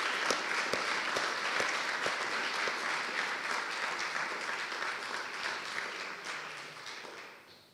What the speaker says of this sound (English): Let us give the parents of our graduates a big round of applause for what they have done.